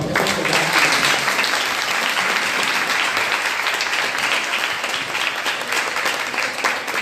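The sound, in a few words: audience applause for the speakers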